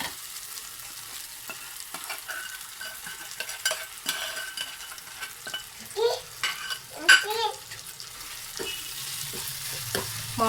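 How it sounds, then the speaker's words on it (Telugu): Ginger garlic paste frying in a pan for tomato curry, a continuous close sizzle with spoon stirring and scraping against the metal, a few louder clatters midway and no talk. "దీంట్లోకి కొద్దిగా 1 టేబుల్ స్పూన్ అల్లం వెల్లుల్లి పేస్ట్ వేసుకుందాం. దీన్ని ఫ్రై చేసుకుందాం."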